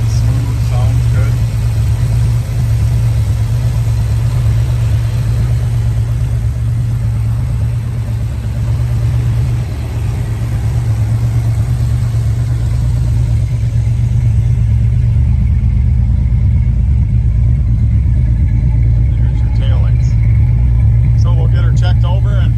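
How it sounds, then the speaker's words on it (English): 1973 Mercury Montego engine running at a steady low rumbling idle at an outdoor car show, loud and close, with someone talking over it near the end. "It runs nice and smooth."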